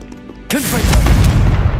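The explosive spell Confringo goes off in the video game Hogwarts Legacy. After a quiet lead-in, a sudden loud boom hits, with whooshing, descending magical tones and rumbling debris that carries on to the end.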